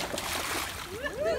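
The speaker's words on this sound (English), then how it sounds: "Big splash, huh?" A boy jumps into a swimming pool with a quick splash and sloshing water, heard fairly close amid outdoor background noise, with a voice rising briefly near the end.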